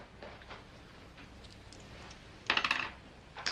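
Coins dropping onto a shop counter in a Western film: a quiet room, then a short bright burst of metallic clinks and rattles, with a faint second clink at the very end.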